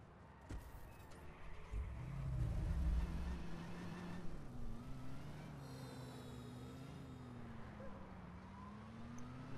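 A car drives in the game Watch Dogs. The engine hums low and revs, swelling to a rumbling surge early on and then settling into a steady drone, quite faint overall.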